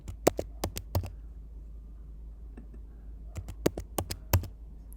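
Fingers type on a computer keyboard, close and fairly quiet: a quick cluster of key clicks, a pause with scattered taps, then another burst of several keystrokes.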